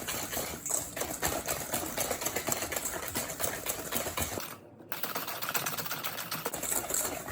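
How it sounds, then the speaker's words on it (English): A whisk beats a brown sugar mixture in a bowl for chocolate chip cookie dough, making rapid, close clicking and scraping strokes that stop briefly partway through and then resume. "Whisk until you don't see any more lumps, okay?"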